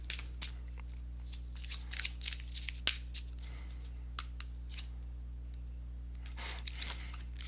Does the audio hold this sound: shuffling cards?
yes